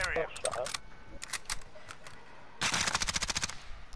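Bursts of rapid automatic gunfire in a Call of Duty: Modern Warfare match crackle in quick rattling volleys, separated by short pauses, with a player's voice talking between the shots.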